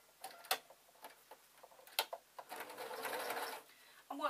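A sewing machine stitches the pieces of a small fabric bag, quiet clicks and short mechanical bursts building into a brief steady run, faint and close, with soft handling sounds around it.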